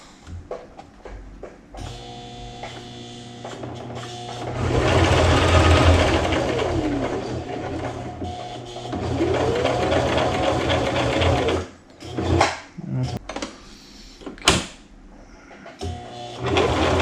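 A sewing machine stitches a messenger bag shoulder strap in rapid mechanical runs, a close, buzzing chatter that swells and holds, then breaks into short stop-start bursts near the end.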